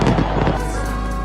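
Fireworks burst at a New Year celebration, a dense run of loud overlapping booms and crackles that rumble in the first half, then settle into a steady roar of distant blasts and crowd noise.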